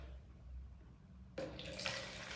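Liquid mix poured out of a measuring container, a sudden steady splashing stream starting partway through after a quiet lead-in, near and continuous, with no talking.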